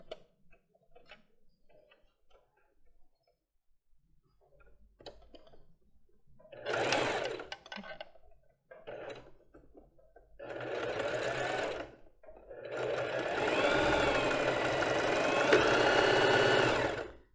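A sewing machine stitches a lace bra in several separate runs, starting with quiet scattered handling clicks and then giving close, loud bursts of rapid whirring with a ticking rhythm, ending in a long continuous run.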